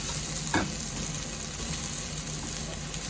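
Eggplant and okra frying in a pan for pinakbet give a steady, fairly loud sizzle throughout, with a brief clatter of stirring near the start.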